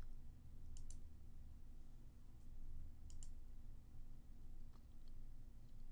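Computer mouse clicks while working in pharmacy software, short sharp clicks in small pairs, spaced a couple of seconds apart over a steady low room hum.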